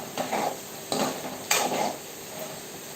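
Pieces frying in a pan get stirred in three distinct scraping strokes over a soft continuous sizzle, close and moderately loud, with no talking.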